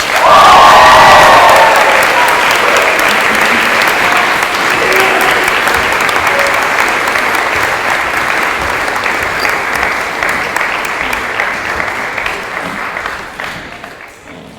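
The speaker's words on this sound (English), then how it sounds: "Please give them another round of applause." Audience applause for graduating Music Academy students at a high school awards ceremony, a dense, steady wash of clapping that starts loud, holds for about thirteen seconds and tapers off near the end.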